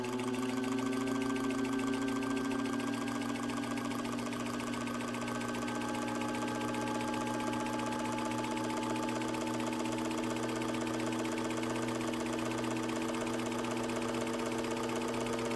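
A 1934 Singer 15-91 sewing machine runs steadily and evenly for the whole stretch, with a continuous humming whir heard close and alone.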